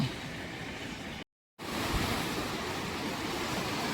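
Steady broadband rush of a swollen river at Mullaperiyar, Idukki, loud and continuous, broken by a brief moment of total silence before the flow resumes.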